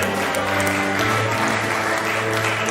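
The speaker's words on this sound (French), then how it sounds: "Est-ce qu'on peut applaudir pour eux s'il vous plaît?" Audience applause at the Maajabu Talent show elimination round, a steady wash of clapping throughout with a low tonal hum of music or room sound underneath.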